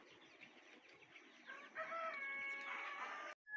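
Chickens being moved from a shed to a large farm cluck in a quiet, faint stream, building into a longer drawn-out crowing call near the end, with no talking.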